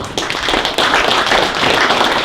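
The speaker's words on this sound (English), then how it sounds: "Let's give them a round of applause." Loud, close applause from an audience at an auctioneer contest, a brief burst of dense clapping with a few thumps.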